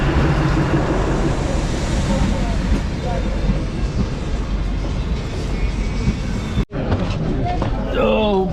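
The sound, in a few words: Radhikapur–Siliguri DEMU train arriving at the station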